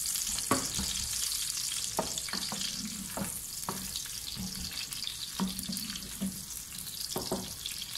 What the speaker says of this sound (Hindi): प्याज को हमने सिर्फ वाइट करना है, ज़्यादा हम इसे ब्राउन नहीं करेंगे